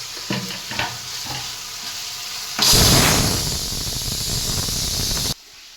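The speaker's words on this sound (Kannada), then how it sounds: "ಅನ್ನ ರೆಡಿ ಆಗ್ತಂದರೆ 1 ವಿಸಿಲ್ ಆಯಿತು ಗಾಯ್ಸ್" A pressure cooker cooking rice lets out a whistle: a loud burst of rushing, hissing steam starts suddenly and holds for nearly three seconds before cutting off, with no voices.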